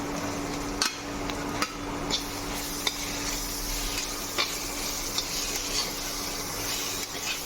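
Chopped onions fry in a pan after ginger and garlic for a chicken liver roast, a steady sizzle under regular sharp taps and scrapes of a spoon stirring, about one every second, close up with no speech.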